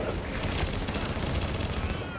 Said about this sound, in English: Oh, I'm getting shot in the ass.